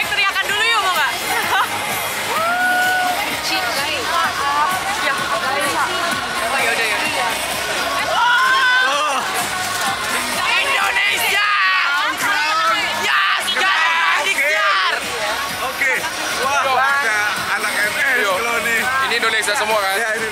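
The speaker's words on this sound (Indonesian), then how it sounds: "Kita cek teriakan dulu yuk, mau gak?" A crowd of Indonesian supporters at the Miss Grand International 2023 pageant venue shouts and cheers, a dense, loud roar of yells, whoops and chatter that carries on without a break.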